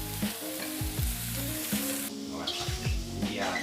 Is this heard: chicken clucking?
no